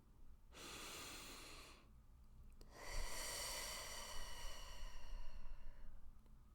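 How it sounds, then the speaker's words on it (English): One long, deep breath drawn in and slowly let out close to the microphone, a breathy rush that pauses briefly between the inhale and the longer exhale, with no talk. "take a deep breath with me"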